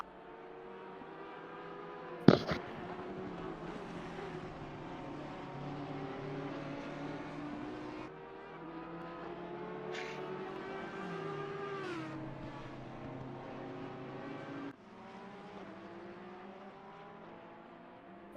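Porsche race car from Assetto Corsa Competizione, running a 12-hour endurance race at Barcelona. A steady, high-pitched engine drone holds throughout, its tone rising and falling with gear changes, and a sharp click-like transient comes early.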